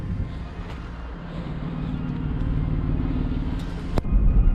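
A Jeep Commander 4x4 driving home, its engine and road noise forming a steady low rumble from inside the cabin, rising slightly toward the end, with a brief sharp click near the finish.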